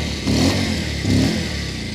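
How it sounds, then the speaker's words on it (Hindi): A Bajaj Pulsar 150 motorcycle engine runs steadily and is revved twice in quick succession, each rev a short rising swell in a loud, close rumble. "हल्का सा अगर रेस दे दूँ मैं"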